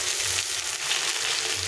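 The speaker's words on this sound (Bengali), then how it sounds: "এখন দিয়ে দেবো এর মধ্যে করলাটা, দিয়ে এটা একটু ভেজে নেবো" Steady, close sizzling of sliced bitter gourd frying with potatoes in hot oil in a pan, a continuous crackle with no voices.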